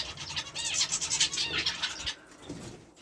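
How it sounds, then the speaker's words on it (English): Canaries and green finches in an aviary chirp and trill in quick, bright bursts that overlap for about two seconds, then fade, leaving a quieter background with faint low movement. "we've got the canaries in here with their green finches"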